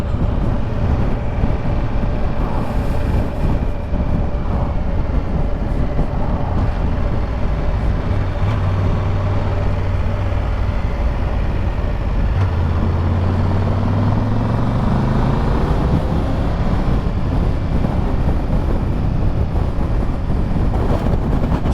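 Triumph Tiger 1200 GT Explorer motorcycle riding along the east coast on a sunny day, a loud steady engine and wind roar throughout with rising and falling pitch sweeps as the bike accelerates, no talking.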